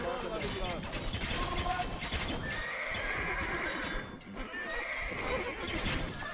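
Horses whinny and neigh repeatedly over a steady clip-clop of hooves in Age of Empires 2, with game music and ambience layered underneath throughout.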